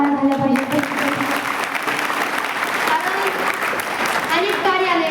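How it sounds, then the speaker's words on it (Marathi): Loud, steady audience applause for the wedding-hall owner at a Marathi devotional kirtan gathering, sustained for several seconds, with a voice carrying over the clapping throughout. "या आपल्या कार्यालय मालकाकरता सुद्धा जोरदार टाळ्या झाल्या पाहिजे"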